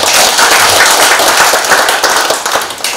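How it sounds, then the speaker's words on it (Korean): Applause from a gathered crowd at a family clan association's annual general meeting, dense and steady clapping filling the room for a few seconds without a break. "한번 박수 한번 부탁드리겠습니다"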